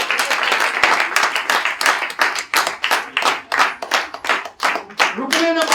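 An audience at a training camp session claps loudly in bursts of rhythmic, fairly synchronized clapping, close and energetic, ending with a brief sung or spoken voice over the last claps.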